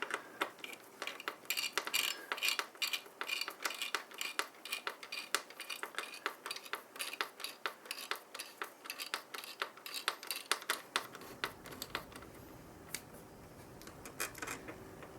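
Screws being tightened on a CPU cooler mount during PC assembly: a long run of crisp metallic clicks and ticks in quick irregular succession, close and fairly faint, with no talking.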